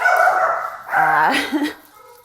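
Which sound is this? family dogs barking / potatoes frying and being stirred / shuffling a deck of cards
family dogs barking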